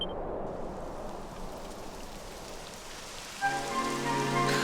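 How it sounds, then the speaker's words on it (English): Steady rain hiss in the video game Dragon Quest XI S, falling continuously as a broad wash throughout, with a tonal in-game music chord swelling in near the end. "It would have to go and start raining, wouldn't it?"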